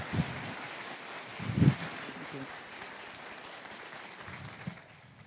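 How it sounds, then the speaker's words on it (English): Conference audience applauding a speaker taking the stage, a soft, diffuse patter of many hands heard from a distance, with a few louder bumps near the microphone and faint murmuring underneath. "Please give a big round of applause for Eleanor."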